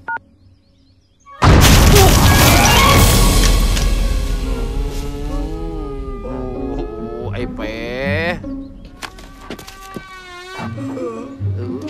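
A bomb blast in a Thai comedy film hits suddenly with a loud booming roar that rumbles and slowly fades, after which voices and animated shouting carry on over the dying rumble.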